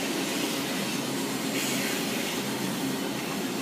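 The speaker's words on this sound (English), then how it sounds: "So that train is going to pass it down Kevin's." A continuous, steady rumbling roar of a westbound CP Rail freight train passing at Morant's Curve, broad and even throughout, with no talking.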